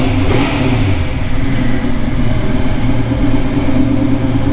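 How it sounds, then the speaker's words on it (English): A cold carbureted-to-Holley Sniper EFI converted car engine idles and is revved, giving a loud, close, steady rumble that rises and falls as the throttle is blipped. "Even with it dead cold and revving it like that, it instantly brings it back."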